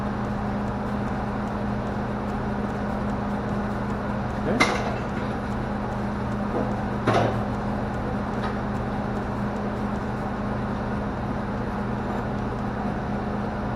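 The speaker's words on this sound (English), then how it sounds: "We'll leave our welder on. You can hear the fan running inside there." Cooling fan running inside an arc stick welder, a steady low hum with a continuous whir that holds even throughout, with two brief sharp clicks partway through.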